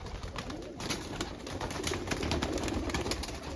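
Pigeons coo in a pigeon room, a steady low murmur of calls over constant broadband room noise, with no talking.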